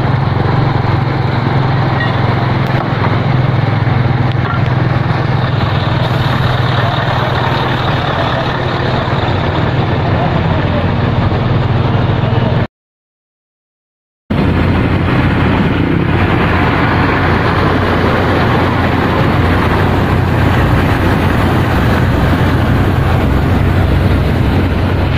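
A trailer truck engine runs with a steady, loud, low rumble, continuous for about 25 seconds apart from a brief gap of silence partway through.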